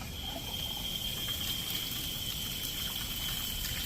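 Water flows through a replacement valve on an American Standard 1030 conversion and pours into a bucket in a steady, even rush for several seconds, with no voices.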